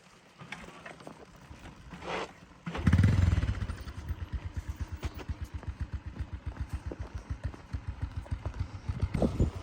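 A motorcycle engine sputters and labours with a rapid, uneven chugging, close by, after a short burst of noise at the start, struggling on a mountain road.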